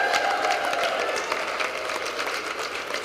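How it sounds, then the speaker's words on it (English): A room of guests at a judicial reception breaks into applause, a busy, continuous patter of many hands clapping at moderate loudness with no talking heard. "So you can give her another great round of applause."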